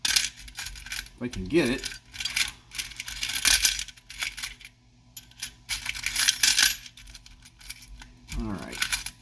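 Small metal wrenches clink and clatter while being handled on an AR-15 workbench, a few bright jingling bursts spaced across several seconds, close by, with someone talking briefly in between.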